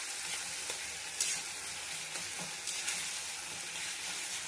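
Katla fish curry with fried potatoes and spices sizzles in a pan, a steady, close hiss of hot oil with occasional stirring scrapes and no voices.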